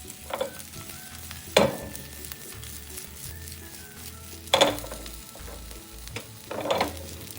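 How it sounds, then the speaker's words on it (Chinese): Steady sizzling of a shrimp pancake frying in a pan, with a few louder clattering bursts as it is moved or turned. "就这样煎至两面都呈金黄色"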